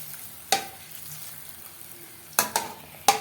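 Wheat flour batter balls drop into hot oil in a wide kadai with a ladle laid across it. A steady, soft sizzle runs under a few sharp clinks and splashes, and three of them cluster near the end.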